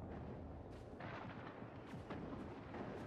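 A grenade explodes in the video game Mass Effect, giving a dense, loud burst of blast and rumbling debris with gunfire-like cracks that carries on for about three seconds.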